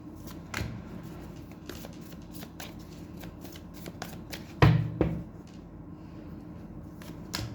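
Tarot cards are shuffled by hand in a quiet room, with repeated crisp riffles and slaps in an uneven rhythm and one louder knock near the middle.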